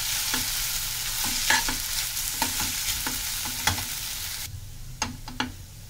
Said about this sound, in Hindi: इसको अच्छे से लगातार हिलाते हुए भुनना है